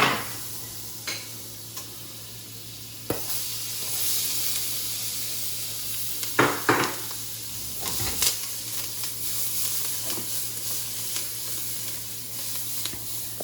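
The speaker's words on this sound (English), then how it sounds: "First thing we're doing, we're gonna add in onions" Onions frying in butter in a hot pan at medium-high heat, a steady sizzle and hiss with occasional stirring scrapes and clicks throughout.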